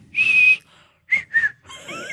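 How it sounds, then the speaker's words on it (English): A person makes a thin whistling tone through the nose: one sustained high note, a short pause, then two quick shorter whistles, close and fairly clear, followed by softer noise. "Caleb's got the nose whistle going on"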